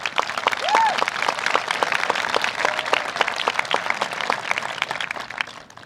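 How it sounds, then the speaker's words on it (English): Audience applause at a 2021 high school graduation ceremony: a steady, dense roll of clapping that holds at an even level for about six seconds, with a few voices mixed in. "Please give them a round of applause."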